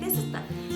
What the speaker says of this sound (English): So my dog is also barking.